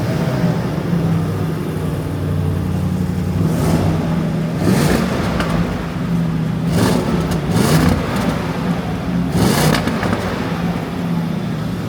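A Range Rover Sport SV V8 engine idles with a low steady rumble, then is revved several times in short bursts that rise and fall.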